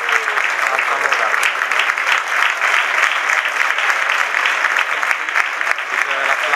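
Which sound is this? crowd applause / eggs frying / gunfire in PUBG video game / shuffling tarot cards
crowd applause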